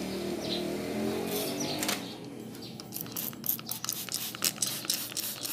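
Air filter cleaner is sprayed onto a K&N drop-in air filter from a Ford Fiesta Mk7, giving a run of short, close hissing bursts after a quieter start.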